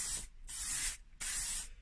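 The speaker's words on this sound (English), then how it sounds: "Again, 6 inches away from what you're spraying. Even strokes." Aerosol spray paint hisses in three even bursts as it is applied to a replacement centre fascia for a K11 car, close and steady with short pauses between strokes.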